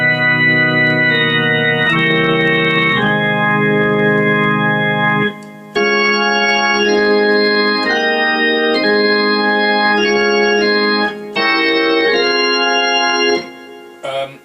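Sustained organ chords with a swirling, warbling Leslie rotating-speaker shimmer and heavy reverb, moving through several chord changes with brief gaps.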